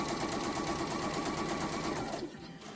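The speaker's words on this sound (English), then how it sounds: "I'm using a size 70 needle because I'm sewing on polycotton" Sewing machine running a size 70 needle through lightweight polycotton fabric, a steady fast mechanical whir with even stitching rhythm, close and fairly quiet, easing off at the end.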